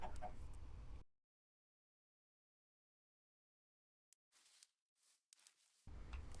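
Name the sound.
chickens clucking in Minecraft video game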